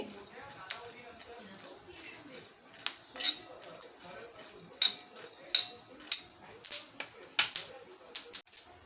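Peanuts being dry-roasted in a pan, with sparse sharp clicks and rattles as they are stirred and tossed, growing more frequent toward the end, close but fairly quiet.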